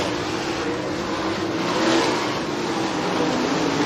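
A pack of race cars roars around an oval racetrack, a steady dense engine drone that swells slightly mid-pass, loud and continuous with no talk.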